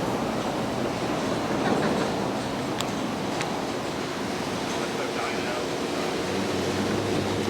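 Steady wind blows outdoors at a roadside attraction, a constant broadband rush that fills the whole stretch without a break.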